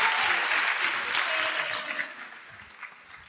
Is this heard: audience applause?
yes